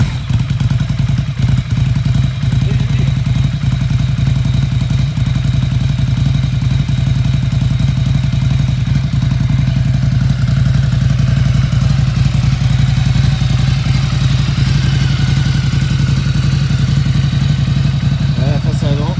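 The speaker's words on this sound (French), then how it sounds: "Si vous voulez écouter le bruit. Hop, on va la démarrer" Ducati 797 motorcycle engine (2019 A2 version) starting and running steadily for nearly twenty seconds, a loud, continuous low rumble with steady idle throb, close by, with voices in the background.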